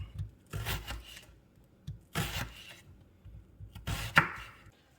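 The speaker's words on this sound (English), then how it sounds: "Now we're going to chop up an onion, about a medium-sized onion." A kitchen knife chops a medium-sized onion on a cutting board for meatloaf, giving three clear bursts of close, crisp cutting strokes separated by short pauses.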